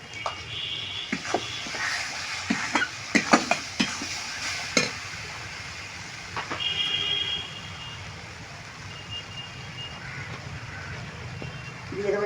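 Spice paste with Kashmiri chilli powder being stir-fried in a pan, a soft steady sizzle under repeated scraping and clinking of a spatula, the strokes clustered early and thinning out later.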